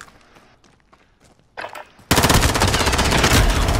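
Rapid automatic gunfire from Call of Duty Modern Warfare online play bursts in loud and sustained after a few faint scattered shots, a dense continuous stream of rounds.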